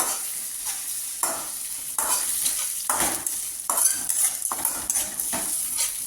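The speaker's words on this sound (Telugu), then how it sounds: "Green chillies and red chillies వేస్తున్నానండి." Green and red chillies fry in a pan, a loud steady sizzle broken by repeated scraping and clinking of a metal spoon stirring against the pan, close up with no voices.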